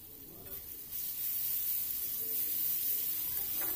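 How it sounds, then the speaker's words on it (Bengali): Ginger garlic paste sizzles in hot oil in a pan over fried tomatoes while a Bengali fish curry is cooked. The hiss is steady and close, growing a little louder after the first second, with no talking. "আদা রসুনটা ভালো করে ভাজতে হবে, যাতে ওর গন্ধটা না থাকে।"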